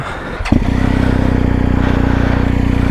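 An adventure motorcycle, a BMW GS, starts with a brief clatter and then idles with a steady, throbbing engine rumble close by, loud and even with no talking.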